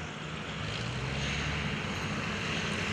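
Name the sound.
RV-8 airplane flying past at an airshow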